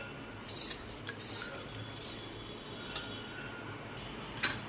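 Gram flour batter with turmeric is mixed in a bowl for Maharashtrian buttermilk kadhi, a spoon clicking and scraping against the bowl in soft, irregular strokes over a quiet background, no voices.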